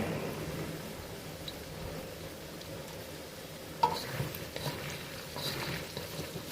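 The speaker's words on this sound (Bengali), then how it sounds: "আলুগুলো যতক্ষণ না পর্যন্ত অর্ধেক সিদ্ধ হয়ে যায় ততক্ষণ পর্যন্ত আমাদের নাড়াচাড়া করে ভেজে নিতে হবে।" Potatoes fry in a pan with salt added, a soft, steady low sizzle with a few stirring clinks and scrapes, quiet and close with no voices.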